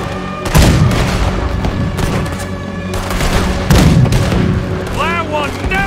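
Ship cannon in Red Dead Redemption 2 fires heavy booms at a boat amid continuous battle noise and gunfire, with voices talking over the fighting.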